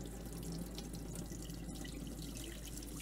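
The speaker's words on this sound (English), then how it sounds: "I am going to fill my measuring cup up with a little bit of water" Tap water runs steadily into a measuring cup, filling about a cup's worth for soaking sprouting seeds in a 1-quart mason jar setup; a continuous close splashing stream with no talk.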